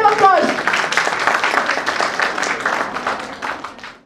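Applause from a school audience for Grade 4's Group B at a school expression event, a dense steady patter of many hands clapping close and loud, fading out at the end.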